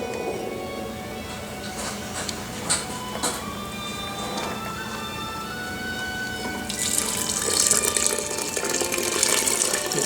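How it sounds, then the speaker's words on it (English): Freshly boiled water poured from a quart measure onto sugar for blueberry wine, starting with a few light clinks and building to a louder, steady pouring splash near the end, without talk. "I'm going to add 1 quart of water that I've just boiled."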